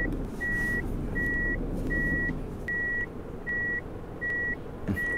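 Reversing alarm on a Ford F-Max truck in a driving game beeps in a steady, evenly spaced series of about seven tones over a low engine drone, with no talk.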